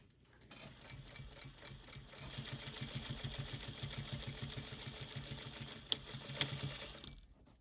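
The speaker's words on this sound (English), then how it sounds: "And turn my corner and hopefully sew straighter this time." A sewing machine stitches fabric in a fast, even rapid-fire clatter that builds for several seconds, quiet and close, with a couple of sharp clicks near the end.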